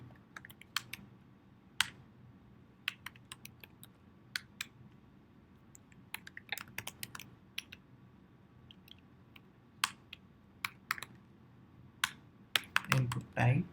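Sparse keystrokes click on a computer keyboard while HTML code is typed, quiet irregular taps with pauses between them, ending in a short cluster of louder handling noise.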